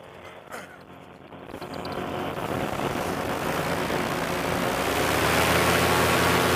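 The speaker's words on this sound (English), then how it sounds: "On takeoff, I can hear a little bit of the motor noise, but it's not bad at all." Paramotor engine at takeoff, a broad buzzing roar that swells from quieter idle to a loud, steady full-throttle drone heard close through an intercom headset.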